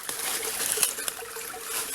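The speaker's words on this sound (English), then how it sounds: "It turns into an underground creek." Creek water trickles and gurgles where a North Carolina creek disappears underground, a soft, steady babble with small splashes, close and moderately quiet.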